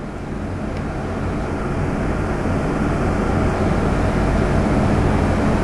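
A twin-turbocharged 632 engine running hard on a dyno on pump gas, a loud steady dense roar held at constant intensity throughout with no voices.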